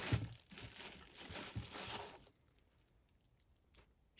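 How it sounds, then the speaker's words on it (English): Plastic packaging crinkles and rustles as a model Andalusian mare horse is unwrapped one-handed, a close, busy crumpling for about two seconds that then fades to quiet with a few faint handling sounds. "Sorry, I'm unwrapping her one-handed."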